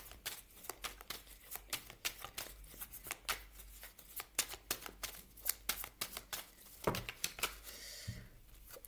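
Tarot cards shuffled by hand in a steady, rapid series of crisp slaps and flicks, close and fairly loud, running through the whole stretch with no talking.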